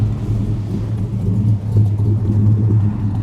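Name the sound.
1940 Chevy Coupe exhaust rumble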